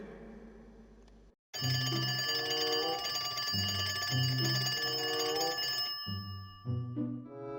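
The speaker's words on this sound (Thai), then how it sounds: "เวลาตีห้าเสียงมือถือดังขึ้น" Mobile phone ringing at five in the morning, a loud electronic ringtone with repeating tonal phrases that plays for several seconds, briefly stops, then resumes, with no speech.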